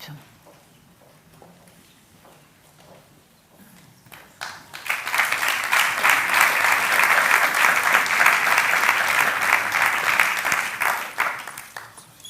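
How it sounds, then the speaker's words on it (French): Audience applause breaks out at a 35th anniversary event for a French law, building from scattered claps into loud, sustained clapping from a crowd indoors, then fading near the end. "vous arrivez sous les applaudissements en guest star"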